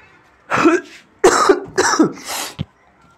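A person coughs several times in quick harsh bursts, close by, ending with a short throat-clearing sound.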